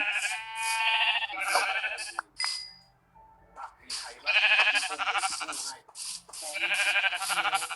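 Sheep bleating in Minecraft come in several repeated game calls through the clip, alongside loud overlapping talk from a player.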